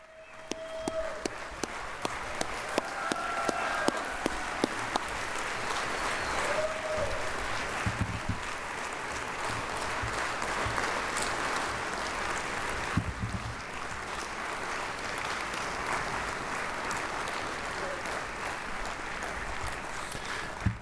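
A large audience applauds Troy University Athletics Hall of Fame inductees at a 2023 ceremony, with sustained dense clapping that holds steady for about twenty seconds and has a few sharper claps standing out.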